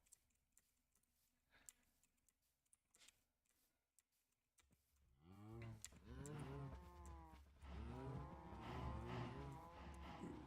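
Minecraft cows low in a series of drawn-out, wavering moos that overlap and fill the second half, loud and close, after a stretch of quiet ticking game sounds and footsteps, with no speech.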